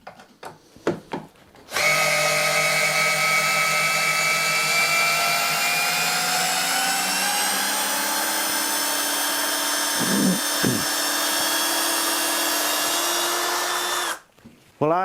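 Milwaukee cordless drill boring into wood, a loud sustained whining motor that gradually drops in pitch as it labours under load for about twelve seconds before stopping, preceded by a few handling knocks.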